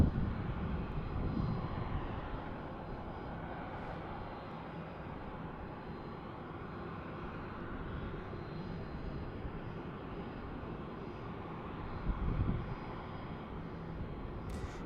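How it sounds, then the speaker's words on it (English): A United airliner pushes back at Tucson International Airport, heard as a steady, distant jet engine drone that holds fairly even throughout with a few slight swells. "And there's our United pushing back."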